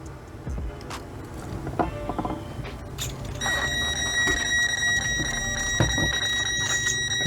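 An RC car's steering servo whirs and clicks in short mechanical bursts, followed by a steady electronic tone from the car, heard up close.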